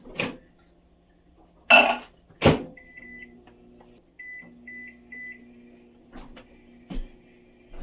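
A microwave oven runs to melt a third of a cup of butter: dishes clatter and a door thunks, then the oven hums steadily with a few short electronic beeps, before more clunks near the end.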